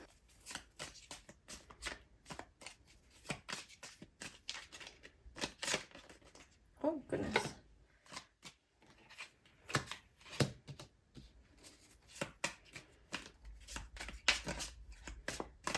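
Tarot cards being shuffled by hand, crisp repeated riffles and card flutters in irregular bursts, close and quiet, with a brief spoken exclamation partway through.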